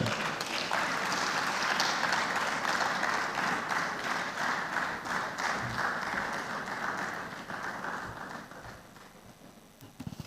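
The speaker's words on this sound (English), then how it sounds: "Another warm round of applause" Sustained applause from a conference audience at a tech event in Africa, a dense wash of many hands clapping that holds steady and then slowly thins out toward the end.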